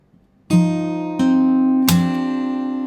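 Three fingerpicked notes ring out one after another on an acoustic guitar, the open fourth, third and second strings of a chord from a song, each plucked clearly and left sustaining together, close and moderately loud with no voice.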